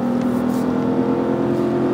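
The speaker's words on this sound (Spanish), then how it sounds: "el V8 sí reacciona" Chevrolet Tahoe 2015 V8 engine accelerating, a steady loud low engine drone with a strong sustained hum and constant level throughout, no talking.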